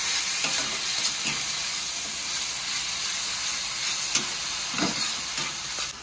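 Ground cumin paste with chilli and garlic being fried and stirred in oil for a katla fish curry. A dense, hissing sizzle runs throughout, broken by a few louder scraping stirs.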